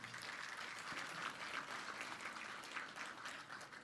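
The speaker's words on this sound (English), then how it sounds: "Can we give them all a round of applause?" Applause from attendees at a morning business networking event, a continuous even wash of many hands clapping, fairly faint and distant throughout.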